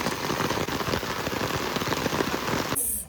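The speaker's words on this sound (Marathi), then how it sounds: "इथे आल्यावर एवढं मुसळधार पाऊस" Heavy monsoon rain pours down at a Konkan dairy farm, a dense, loud, steady hiss with crackling drops on surfaces, cut off abruptly at the end with no one talking.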